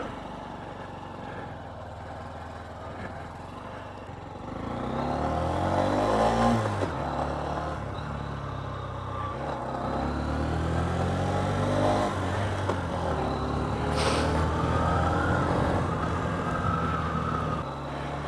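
A 2023 Honda CB125F motorcycle fitted with a 28mm throttle body climbs a hill, its engine droning steadily and rising in pitch as it pulls under load, with a constant rush of wind alongside.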